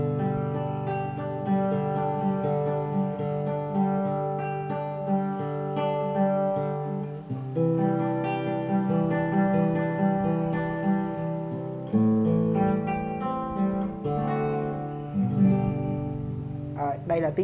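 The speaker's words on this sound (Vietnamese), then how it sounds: "Đây là tiếng đàn mà đã qua xử lý của cái bộ pedal." A custom full koa guitar played through a pedal board with reverb effects gives sustained, layered chords that ring and blend into a washy tail, steady and close throughout.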